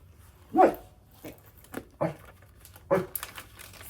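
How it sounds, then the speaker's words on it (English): A dog barks a few separate times indoors at a holiday cross-stitch chat, with sharp, fairly close yips spaced irregularly and little else around them. "We don't need your barks."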